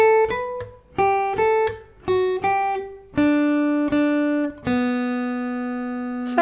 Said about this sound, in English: And so, the lead guitar part, as you know, sounds like this.